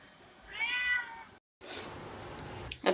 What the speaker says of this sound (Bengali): এই যে বিড়াল বসে আছে।